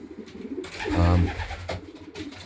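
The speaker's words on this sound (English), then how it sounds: "He's a direct son of Hades the Unseen, lovely pigeon." Pigeons in a breeding loft giving one close, deep cooing call with a throaty, rolling tone amid rustling and light movement noise.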